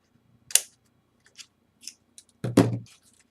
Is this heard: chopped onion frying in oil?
no